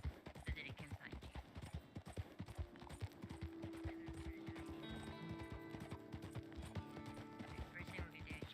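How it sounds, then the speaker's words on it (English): A horse in Red Dead Online gallops up after being called, its hooves beating a rapid, steady clip-clop close by over faint ambient tones, with no one speaking. "You can call your horse."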